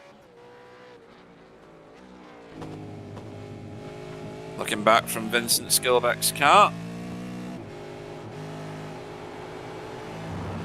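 A V8 racing car engine drones steadily at Spa while its tyres give a run of shrill, pulsing squeals through a corner, with someone commentating over it.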